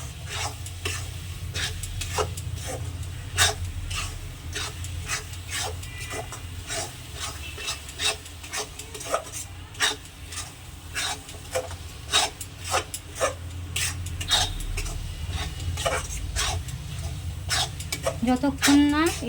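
A spoon scrapes and stirs a thick moong dal and ground peanut mixture for laddoos in a pan, making rapid, rhythmic rasping strokes over a low hiss throughout.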